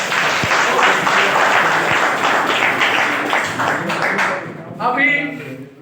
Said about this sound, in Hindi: एक बार अपने लिए जोरदार ताली बजाएं।